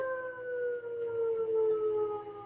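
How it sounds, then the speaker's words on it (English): A civil defense siren goes off near a house in a residential neighborhood. Its steady wailing tone drifts slowly down in pitch, heard from a moderate distance over faint background noise. "I wonder why our siren's going off."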